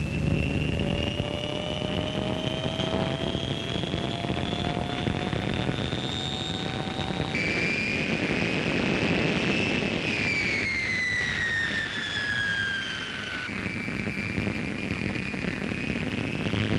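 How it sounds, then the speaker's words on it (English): A De Havilland Comet jet airliner runs its engines on the ground, giving a continuous loud roar with a high whine whose pitch rises and then falls as power changes, heard alone with no talking. "Engine runs occupied the first afternoon."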